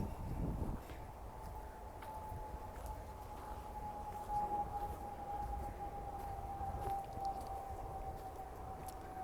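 A plane passes overhead near the Eagle Trail in West Palm Beach, Florida, a steady distant droning whine that holds throughout over quiet outdoor ambience and light rustling.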